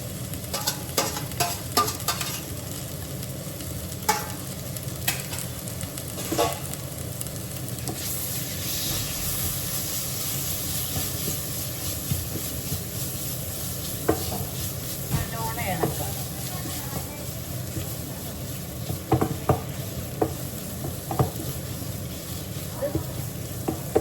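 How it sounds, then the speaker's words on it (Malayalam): Chicken curry masala with turmeric and a small tomato being stirred in a pan, giving a steady close sizzle and frying hiss with scattered scraping taps of the spoon throughout. "ഇത്രയും കൂടെ മഞ്ഞളോടെ ഇളക്കുക ഞാൻ ഒരു ചെറിയ തക്കാളി ചേർത്തിട്ടുണ്ട്"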